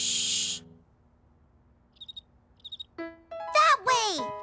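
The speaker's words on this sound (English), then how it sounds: "We have to listen for that sound and follow it until we find the cricket." Two quick bursts of high, thin cricket chirps sound in a cartoon scene, each a cluster of rapid pulses, fairly faint against near silence and followed by louder voice-like sounds.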